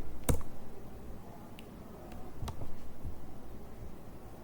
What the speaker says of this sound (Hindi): अब मैं यहाँ पे क्लिक करता हूँ